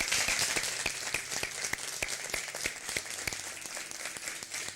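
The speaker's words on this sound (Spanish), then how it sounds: "Os despedimos con este aplauso." A studio audience claps to close a Spanish TV show, with distinct sharp individual claps standing out over a continuous bed of applause, fairly soft and even.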